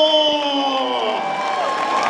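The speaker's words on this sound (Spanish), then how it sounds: "ahí le va el aplauso, don Guillermo" Crowd at a Mexican jaripeo bull-riding event cheering, whooping and clapping steadily and loudly for about two seconds, voices rising and mixing throughout.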